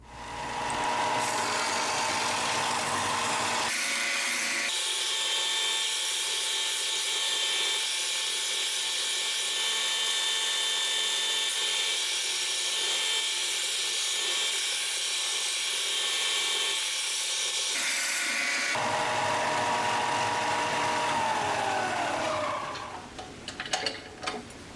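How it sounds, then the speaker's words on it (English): A belt sander runs loud and steady, rounding off sharp metal corners, its whine and grinding rasp shifting in tone as the metal is pressed and lifted, then winding down near the end. "I'm rounding off all the sharp corners on the belt sander."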